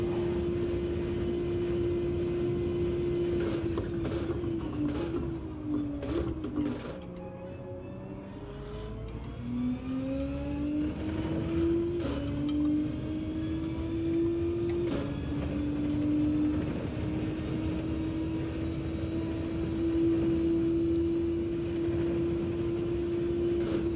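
A car engine drives around a track in Gran Turismo 7, a steady droning tone near and prominent, dipping briefly as it shifts, then climbing and holding again, with tyre and road noise underneath.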